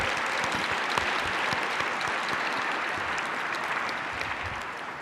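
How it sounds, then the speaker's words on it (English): An audience at the 2024 Creative Hall of Fame ceremony claps steadily for several seconds, dense and even, then tapers slightly toward the end. "I'd like some applause for that"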